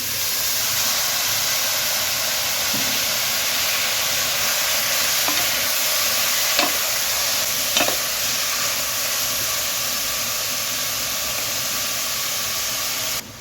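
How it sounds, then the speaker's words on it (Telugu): Cut ridge gourd pieces fry with chana dal in a pan, giving a steady, even hiss of sizzling oil with a few faint stirring clicks, continuous throughout, with no talking. "ఇప్పుడు ఇందులో తరిగి పెట్టుకున్న కట్ చేసుకున్న బీరకాయ ముక్కల్ని వేసుకుందాము"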